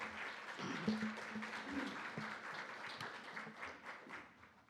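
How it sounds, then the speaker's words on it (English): An audience at a caregiver testimony session on LGS applauds, a moderate wash of clapping with a few voices murmuring beneath it, tapering off toward the end. "So give him a round of applause"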